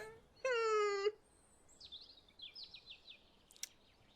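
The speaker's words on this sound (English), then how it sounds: "I'm just listening to bird noises." Bird calls from the Wingspan board game: a loud drawn-out wailing note with stacked harmonics, followed by a string of faint high chirps and tweets.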